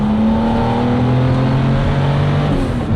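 A Porsche Gunther Werks turbo with an ultra-light flywheel and clutch disc, about 850 horsepower, runs loud and close as a sustained engine note that holds steady with a slight climb over a few seconds.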